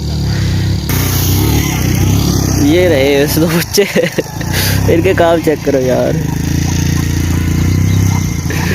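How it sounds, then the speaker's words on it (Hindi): A motorcycle loaded with grass rides along a wet village road in rainy Punjab, its engine droning steadily under close, loud talk in Hindi or Punjabi. "वो बाइक पे घास लाद के आ रहे हैं।"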